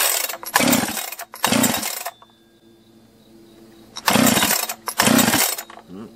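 A rebuilt chainsaw is pull-started with a little choke: four loud, close bursts of sputtering engine in two pairs, split by a quiet gap, with no one talking.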